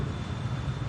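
A modern airliner's engines roar steadily under held throttle in a flight simulator game, a loud, even drone with a low rumble and no break across the brief moment.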